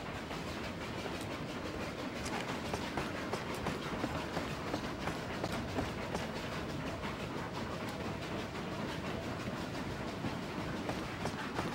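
A train rolls steadily along in the PS2 western game Red Dead Revolver, giving a continuous dense rumble with faint rhythmic clacking of wheels on rail throughout, fairly loud and without speech.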